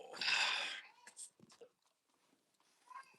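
Dogs make noise nearby, opening with a loud, breathy whine or bark-like burst, followed by scattered small whimpers, shuffles and snuffling before it falls quiet.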